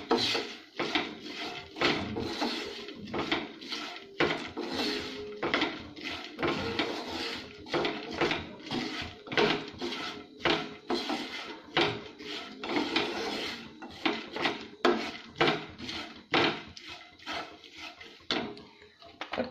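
Peanuts tossed with coriander powder, black pepper and salt in a pan for masala peanuts, giving a steady dry rattling scrape of spoon against nuts, repeated in quick close strokes with no talking.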